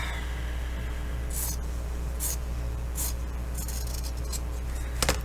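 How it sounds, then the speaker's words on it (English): During bookbinding, scissors cut off the overlapping cover material in several faint, crisp snips over a low, steady room hum. "I'm going to cut that off."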